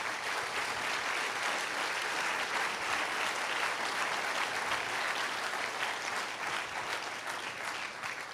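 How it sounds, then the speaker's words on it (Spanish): Church congregation applauding during a Sunday sermon, a steady, moderately distant roar of many hands clapping continuously with no voices on top. "Denle un fuerte aplauso al Señor"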